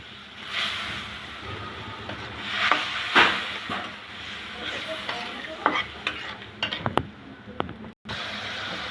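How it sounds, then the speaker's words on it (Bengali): Shrimp frying in a spice paste in a pan, with steady sizzling and scraping stir strokes close by, plus a few sharper clinks toward the end; no voices. "এই পর্যায়ে দিয়ে দেবো আমি চিংড়ি মাছগুলো। মশলার সাথে ভালো করে মাছগুলো আমি কষিয়ে নেব।"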